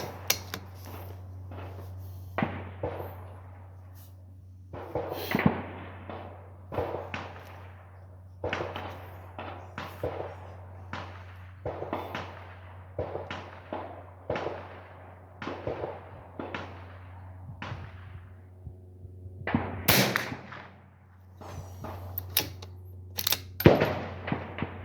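Repeated sharp cracks from a Savage B22 Precision rifle firing Federal .22 rounds, a dozen or more shots in an irregular rhythm over a steady low hum, with a couple of louder reports near the end.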